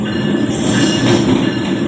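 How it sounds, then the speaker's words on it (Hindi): Awam Express passenger train pulling into Rawalpindi railway station, a loud steady rumble of rolling wagons with high metallic wheel squeal running continuously throughout, no voices. "हमारी गाड़ी रावलपिंडी रेलवे स्टेशन पर पहुंच चुकी है।"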